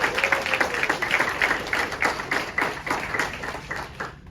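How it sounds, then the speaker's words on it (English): A round of applause at a policy briefing: a small group claps steadily at moderate volume for several seconds before it fades. "Can we have a round of applause?"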